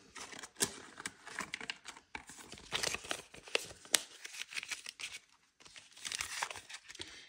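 Paper cash bills handled during a bill exchange: close, irregular crinkling, rustling and flicking of notes in quick bursts, with a short quiet gap before the handling resumes, with no voices.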